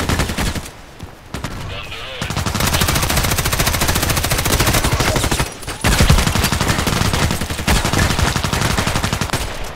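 Sustained automatic fire from a Sig Sauer MPX submachine gun in the shooter game Contract Wars, loud, dense rapid bursts broken by short gaps, with faint talk underneath.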